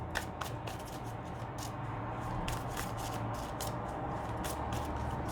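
A deck of oracle cards is shuffled by hand, a string of quick papery riffles and flicks over low steady hum, close and fairly soft, with no voices.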